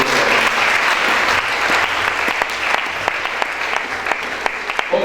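A church congregation bursts into sustained, dense applause acclaiming the Lord, with scattered shouts and cheers rising within the clapping, loud and steady throughout.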